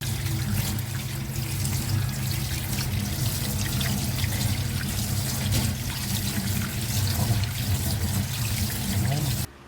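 Tap water running while instant noodles are rinsed in a bowl for chicken mami, heard as a loud, steady rush of water from start to finish with a voice talking underneath.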